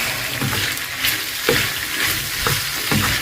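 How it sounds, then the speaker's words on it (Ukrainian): Pumpkin and potatoes sizzle in a frying pan while being stirred, with a few scraping stirs cutting through a steady close hiss and crackle and no talking. "Перемішуємо."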